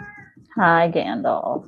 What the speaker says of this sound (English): I don't know if you can hear him meowing at me or not.